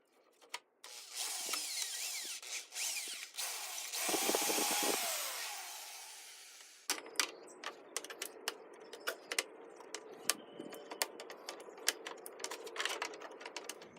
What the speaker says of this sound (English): I'm going to drill the hole in these two sides